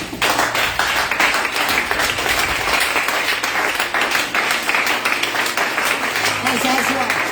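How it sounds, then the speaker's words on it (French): A church congregation stands to applaud and acclaim the Lord, dense clapping running steadily throughout, loud and close, mixed with cheering voices and tapping. "On se lève, on acclame le Seigneur."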